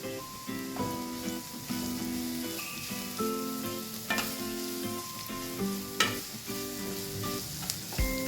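Onions with ginger garlic paste fry in a pan for chana masala, making a continuous close sizzle punctuated by scraping and stirring clacks at irregular intervals, with no voices.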